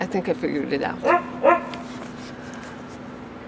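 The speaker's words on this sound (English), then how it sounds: "That's my dog." A dog gives a few short barks and yips in quick succession during the first second and a half, close by and mixed in with a person talking.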